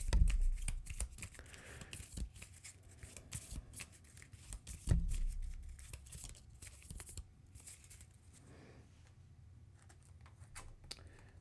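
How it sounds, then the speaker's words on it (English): Cards being shuffled during a tabletop card game session, a soft riffling and sliding patter with a louder thump or two, close by and fairly quiet, no talking. "So this gets shuffled in."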